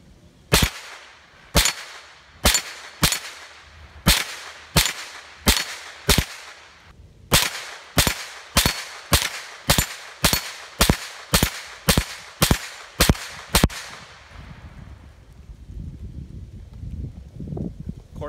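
A first-generation Kel-Tec Sub 2000 9mm carbine fed from a Glock stick magazine fires about two dozen sharp, loud outdoor shots at a steady, quick pace, then stops, leaving quiet ambient noise.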